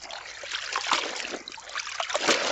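A bed sheet lifted out of a basin of wash water during hand washing, with water trickling and splashing back steadily, close and fairly loud, with no talk.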